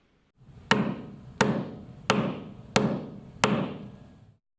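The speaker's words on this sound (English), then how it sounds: "tap it with a hammer a few times strongly" A hammer strikes a fabric covered button tool five times at an even pace, each sharp hit close and loud with a short ringing tail.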